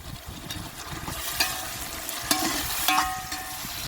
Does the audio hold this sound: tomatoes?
yes